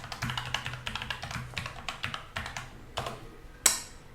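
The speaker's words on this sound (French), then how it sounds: "Tape le mot de passe." A password is typed on a computer keyboard in a rapid, uneven run of close key clicks, ending with one sharper, louder keystroke near the end.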